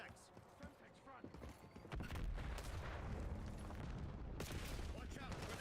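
A Semtex grenade detonates in Black Ops multiplayer: scattered gunfire and clatter first, then a heavy low boom that swells and rumbles on loudly through the rest, with game noise around it.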